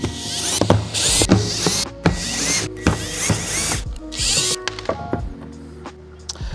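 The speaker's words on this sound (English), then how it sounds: "So we'll take that and attach it to a drill. And we'll back all these out." A power drill fitted with a security bit backs out several enclosure screws on a Quart battery system install, giving repeated short whirring bursts with ratcheting clicks, close and fairly loud, separated by brief pauses.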